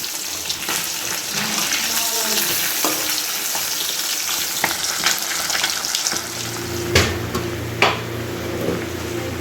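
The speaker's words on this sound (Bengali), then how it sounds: "আমলের মাছ ভাজাগুলো বসিয়েছি এখানে এখনও ভাজা হচ্ছে" Fish pieces fry in a pan of hot oil in a home kitchen, a close, continuous crackling sizzle with occasional sharp pops and faint background noise.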